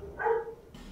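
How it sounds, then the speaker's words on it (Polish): A dog in the Dark Souls 2 video game gives a single short bark, fairly faint and brief, with no talking. "Aż pies zaczął szczekać"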